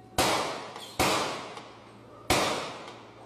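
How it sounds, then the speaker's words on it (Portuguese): Three sharp, loud gunshots fired by police on a street at night, spaced unevenly with a fading echo after each, caught from a distance in an amateur recording with no talking. "Os disparos foram feitos desse local."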